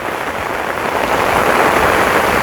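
Steady rain pours down as a dense, even hiss that swells slightly louder partway through, with no voices heard.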